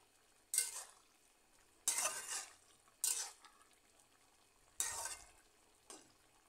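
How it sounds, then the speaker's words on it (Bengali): A pot of boiled spinach, potato and lentil vegetables being stirred: five separate scraping, splashing strokes at a fairly close distance, each a short wet burst followed by a quieter trail, set apart by brief pauses. "এবার আমি আরও ভালো করে নাড়িয়ে"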